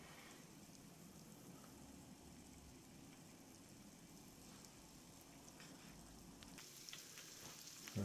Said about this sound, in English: that's starting to fry up a little bit